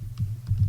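Keys tapped on a computer keyboard while entering a search term, a few soft clustered clicks over a low steady background hum, close and fairly quiet.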